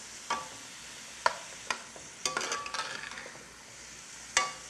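Onions frying in a pan are stirred with a utensil, giving a soft sizzle broken by sharp, irregular scrapes and clinks against the pan, close and fairly quiet with no talking.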